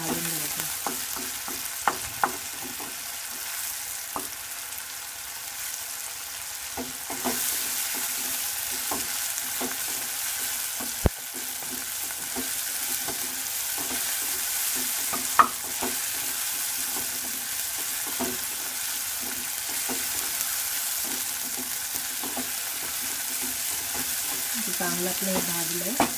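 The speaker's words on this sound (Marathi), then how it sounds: "कांदा आणि टोमॅटो एकदम असं म्हणजे चांगलं ब्राऊन झाला पाहिजे, टोमॅटो पण असं नरम झाला पाहिजे, असं भाजून घ्यायचं" Onion and tomato frying in a pan as a Rajma Masala base, a steady sizzle lasting throughout, with occasional scraping and clinking as the mixture is stirred.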